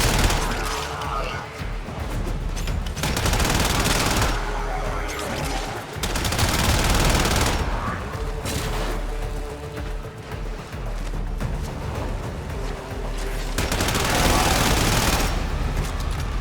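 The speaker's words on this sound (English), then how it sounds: "Don't be shooting at me." Rapid gunfire bursts from the Warframe video game come in dense loud volleys with booms and brief pauses, while someone talks over them at times.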